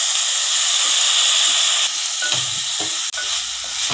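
Cut potatoes dropped into frying ginger-garlic paste in a pan for a brinjal and potato curry, giving a steady close sizzle with stirring scrapes and brief shifts as the pieces go in.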